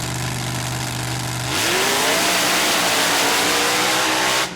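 A mud truck at a race in Manny, Louisiana roars from a steady high idle into a full-throttle rev about a third of the way in, then keeps running loud and rough near the end.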